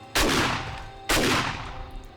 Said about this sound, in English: I don't think the gunshots are gonna drown out my voice as bad